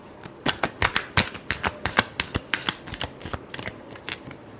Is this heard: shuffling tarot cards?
yes